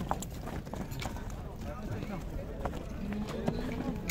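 A big horse walks at a crowded horse market, hooves clip-clopping in an uneven rhythm under constant chatter of people nearby.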